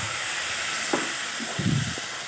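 Boiled dried peas go into spices already frying in hot oil in a pan, giving a steady close sizzle and hiss with a few soft thuds and a brief louder burst near the end.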